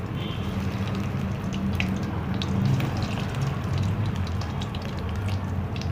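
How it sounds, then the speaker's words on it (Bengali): Bread chops frying in hot oil in a pan, a steady close sizzle with scattered crackles and small pops throughout, no talking. "এটা গরম হয়ে গেছে, পুরো ভালো গরম হবার পরে তেলটা, তারপরে গিয়ে এগুলোকে আমি দিচ্ছি"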